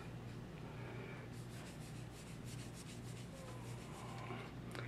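A cloth rubs steadily back and forth, working Flitz metal polish onto a Buck knife blade, close by and quiet over a low background hum.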